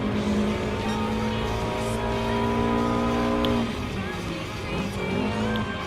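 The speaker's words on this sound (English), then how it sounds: "The big truck has been overtaken by a JDM sports car" A first-generation Ford F-150 Raptor truck and a Subaru Impreza 22B-STi racing in Gran Turismo Sport, a loud sustained engine drone with shifting pitch as one car overtakes the other, close and continuous, with talk over it.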